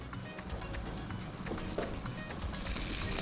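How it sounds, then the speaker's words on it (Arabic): Butter melting and sizzling in a hot frying pan before ground meat goes in, a steady close crackle and hiss that holds even and continuous throughout. "واسيب كده الزبده تسيح في السخونيه بتاعت الطاسه"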